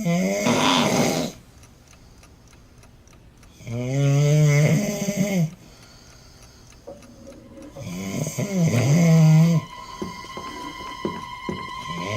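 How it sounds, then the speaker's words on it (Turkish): A man snores loudly and close by in bed, with three long rattling inhalations spaced several seconds apart and faint clock ticking between them. "Çok horlar. Bayağı horlar."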